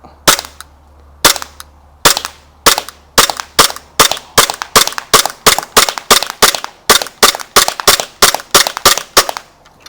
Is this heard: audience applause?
no